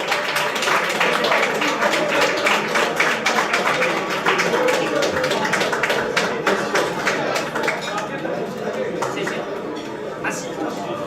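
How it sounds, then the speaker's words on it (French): An audience applauds a silver medal recipient at an arts and culture award ceremony, with dense, steady clapping running throughout under a bed of crowd chatter and voices. "Bravo à vous, on peut l'applaudir, mesdames et messieurs"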